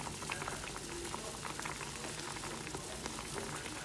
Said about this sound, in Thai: แล้วก็ต้มนะคะ จนน้ำเขียวๆเขาจะออกมานะคะ